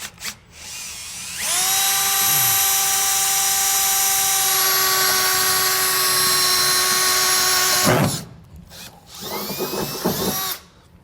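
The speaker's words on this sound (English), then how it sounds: "So we'll go ahead and get our first hole drilled." A power drill whines at steady high speed while boring a hole in the bed of a 2018 Ram 3500 truck, loud and close for several seconds, then stops and gives a short second burst.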